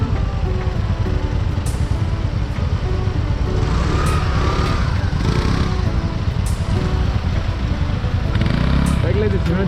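Motorcycle working slowly along a jammed off-road mountain track blocked by landslide debris, its engine a steady close rumble throughout with people talking over it.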